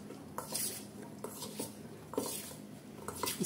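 Okra being tossed with spices and rice flour in a metal bowl, giving repeated scraping and clinking of a spoon against the dish in short bursts, fairly quiet, no voices.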